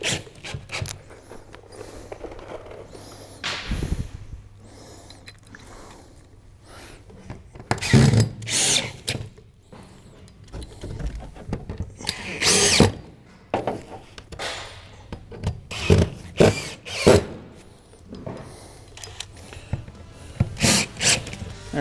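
Power drill driving screws into roof valley cleats during metal roof installation, in repeated short whirring bursts with pauses and handling noises between them, fairly close and loud.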